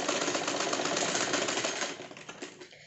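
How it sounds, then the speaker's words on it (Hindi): A sewing machine running steadily as it stitches a cushion cover, a continuous close rattling whir that slows and stutters near the end. "इस तरीके से हम ऊपर से लेके नीचे तक का पूरा सिल।"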